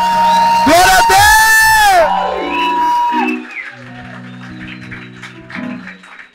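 A church congregation cheering, whooping and shouting loudly for a couple of seconds during a sermon, then fading into scattered voices and someone speaking over softer background sound.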